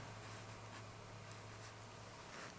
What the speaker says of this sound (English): put nib to paper